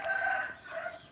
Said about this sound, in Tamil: சேவல் எங்கே போயிடுச்சுன்னு பாரு.